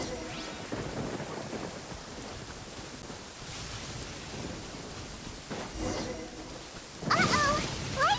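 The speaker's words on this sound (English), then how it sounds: "Uh-oh! Lightning storm!" A thunderstorm with lightning and rain in the video game Genshin Impact, with steady rainfall, rumbling thunder and a sharp crack of thunder near the end.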